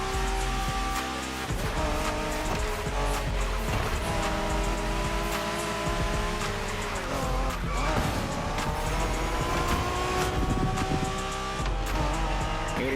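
Japanese-style street racing cars in The Crew Motorfest, engines roaring loudly and continuously with shifting revs, tire squeals and passing vehicles, music and voices underneath.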